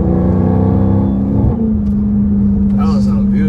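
Dodge SRT 392 V8 engine accelerating hard, a loud, close roar that climbs in pitch and then settles into a steady high drone as the car pulls, with voices talking inside the cabin.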